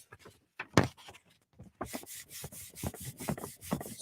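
The rough side of a sheet of sublimation paper being rubbed gives a gritty, sandpaper-like scraping: a few separate strokes at first, then a quicker, continuous series of rasping back-and-forth rubs, close and alone.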